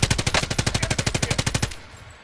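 Rapid automatic gunfire in Call of Duty Warzone, a steady burst of about fifteen loud, evenly spaced shots close up, ending abruptly with a short fading tail.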